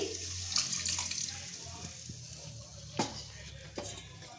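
Water is poured into a rinsed mixer grinder jar in a kitchen, a soft splashing trickle with a few clinks of the jar, while oil-fried spice paste sizzles faintly in the background.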